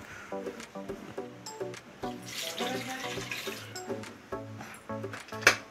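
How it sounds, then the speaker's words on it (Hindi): Water running steadily into a pressure cooker while cooking carrot halwa, a continuous close splashing stream with faint rhythmic tonal clinks over the top, ending in a brief clatter. "और अब हम इसमें पानी ऐड करेंगे थोड़ा सा।"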